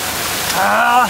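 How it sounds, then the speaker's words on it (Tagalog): Heavy rain falls as a dense, continuous wash of noise, and a voice speaks briefly over it. "Nagdagan pa ng ulan ulit, eh."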